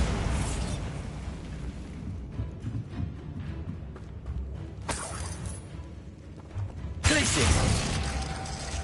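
A Bombarda explosion spell in the Hogwarts Legacy video game, with a sharp blast near the middle and a bigger booming burst later, both rising out of busy mechanical game noise.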